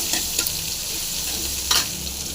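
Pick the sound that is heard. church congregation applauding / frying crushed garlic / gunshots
frying crushed garlic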